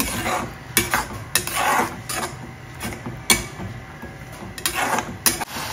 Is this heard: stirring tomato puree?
yes